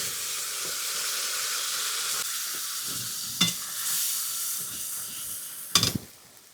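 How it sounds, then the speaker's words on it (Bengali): Spice paste frying in hot oil with fried onions, a steady loud sizzle and hiss close by, broken by scraping stirs and a couple of sharper sputtering bursts. "এবার মশলাটা বেশ সুন্দর করে আস্তে আস্তে নেড়ে সুন্দর করে ভেজে নিতে হবে।"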